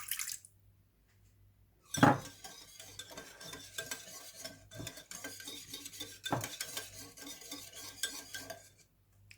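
Ground meat kofta kebab mixture with salt and spices being stirred in a bowl, giving a steady run of soft scraping and clinking utensil sounds with one sharper knock near the start and no talking.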